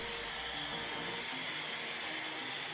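A vacuum cleaner fitted with a plastic tube dryer vent attachment gives a steady, loud, unbroken whooshing roar, with a faint tonal whine running through it.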